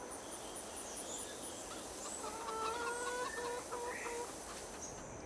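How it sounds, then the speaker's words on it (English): Chickens clucking in the Farming Simulator 22 video game, a few short repeated clucks and calls over a steady ambient farm background, moderately quiet. "This is our main chicken here."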